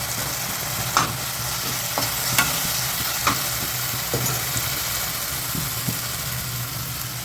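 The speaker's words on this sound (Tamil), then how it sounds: "இதையும் கொஞ்சம் நேரம் அப்படியே வதக்குங்க." Pasta ingredients with chilli powder sautéing in a pan, a constant sizzle beneath a low steady hum, punctuated by occasional spoon clicks and scrapes as they are stirred.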